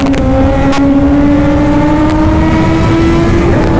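Two C9 motorcycles race along a road, their engines roaring loud and close in one continuous whine that climbs slowly in pitch over a rough rumble.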